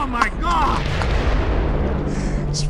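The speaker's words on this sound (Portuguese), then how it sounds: "Explosão horrível, meu Deus." A heavy explosion booms in the Splinter Cell stealth campaign on hard difficulty, a dense, sustained roar lasting the whole stretch with a voice heard over the start.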